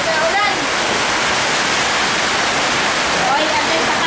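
Heavy rain pouring steadily during a family vacation, a loud, dense, continuous rush of water like a downpour on a surface, with no break, masking everything else.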